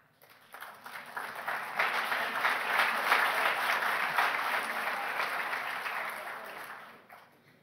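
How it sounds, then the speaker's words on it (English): Audience applause at a talk on gender, swelling from a few claps into a sustained dense wave of clapping for several seconds before fading out. "to get applause for saying something like that"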